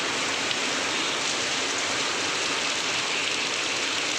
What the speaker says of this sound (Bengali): বাট মজা লাগে এরকম বৃষ্টিতে ভিজতে।